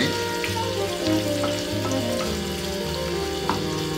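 Calabresa sausage frying in a pan, a continuous sizzle with occasional crackles, set against a steady humming background tone.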